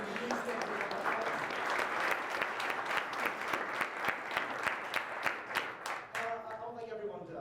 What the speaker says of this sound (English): just a round of applause for being here, being part of the community, being engaged